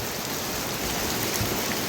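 Steady rain at Hagood historic mill, a dense, even hiss of drops on surfaces holding constant and fairly close, with no voices.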